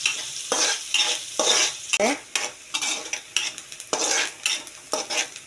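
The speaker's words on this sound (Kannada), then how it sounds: "ಅದು ಸ್ವಲ್ಪ ಕಲರ್ ಚೇಂಜ್ ಆಗೋ ತನಕ ಎಣ್ಣೆಯಲ್ಲಿ ಫ್ರೈ ಮಾಡಬೇಕು." Ingredients fry in hot oil in a pan under a steady sizzle, while a spoon scrapes in regular, repeated strokes about every half second, close and clear.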